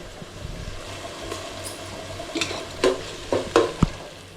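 Ginger-garlic paste added to onion and tomato frying for a clam biryani gravy: a low background sizzle, then a cluster of scrapes and knocks from stirring in the pan, close and brief.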